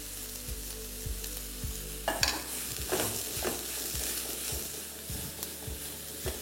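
One large chopped onion frying in a pan, a steady close sizzle under repeated scraping strokes of a spatula, with a low rhythmic thump in the background.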